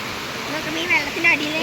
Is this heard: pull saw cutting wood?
no